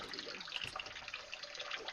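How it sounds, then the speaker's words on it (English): Water running from a tap, a steady faint hiss of flowing water with a light splashing texture, continuous and alone. "Oh, I hear water running."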